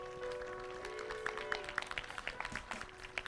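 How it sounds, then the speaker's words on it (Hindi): A congregation at a Christian prayer and communion service claps in scattered, uneven bursts that grow denser toward the end, over a steady sustained musical tone. "जोरदार ताली बजाकर धन्यवाद दें।"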